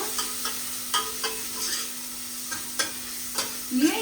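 Steady sizzling of a tempering in hot oil in a pan, with periodic scraping stirs and clinks of a spoon against the pan; no talking.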